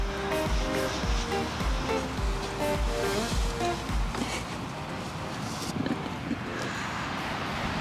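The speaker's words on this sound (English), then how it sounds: "It got windy, so they're out of the wind." Gusty wind blowing outdoors around a pig pen, buffeting the microphone with low rumbling bursts and a broad rushing noise that stays loud throughout.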